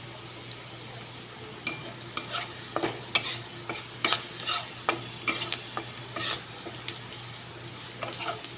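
Onions frying in a pan for egg curry, with repeated scraping stirs of a spatula over a low sizzle and a steady background hum, no talking.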